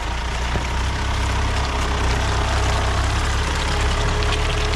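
A truck engine on new off-road tyres runs steadily in first gear, a loud, continuous low rumble with a knocking throb that holds unchanged throughout, close by and with no talking over it.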